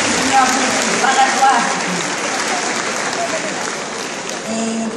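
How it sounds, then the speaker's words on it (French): A church congregation applauds during a service, a dense, steady wash of clapping hands filling the space throughout, with voices faintly mixed in. "Applaudissez le Seigneur"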